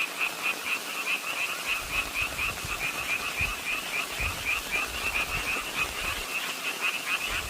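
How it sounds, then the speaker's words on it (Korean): Frogs croak in a dense, rhythmic chorus outdoors, a steady pulsing trill that repeats evenly throughout with no voices. "너무 좋아요 개구리 소리 여기"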